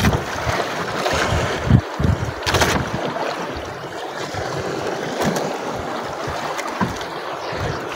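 Rough sea water sloshing and slapping close by during a night fishing trip in a squall, with gusting wind buffeting the microphone and a boat's hum underneath, steady throughout.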